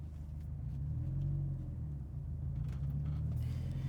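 A car's low engine rumble and road drone continue steadily from inside the vehicle while stuck in traffic, with a faint hum rising and settling as it moves.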